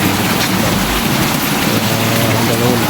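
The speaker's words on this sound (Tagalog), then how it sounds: "medyo malakas ang ulan dun sa labas" Heavy rain pours outside after days of stormy weather, producing a loud, continuous hiss that fills the whole moment without a break.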